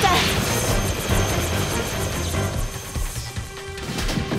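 A cartoon helicopter's rotor chops rapidly and loudly in a fast steady rhythm, with engine whine and some clattering mixed in.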